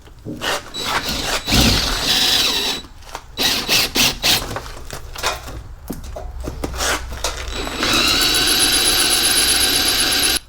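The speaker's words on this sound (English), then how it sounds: "drill the top of that out." A loud power drill whines and grinds against metal in sustained bursts, pausing briefly, then a long high-pitched drilling squeal near the end, drilling out a 1988-98 Chevy Silverado cab corner.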